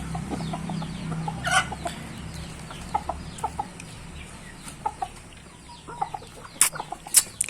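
Kampung chickens in a backyard farm clucking, with scattered short clucks and calls at varying distances over a low steady background, no talking.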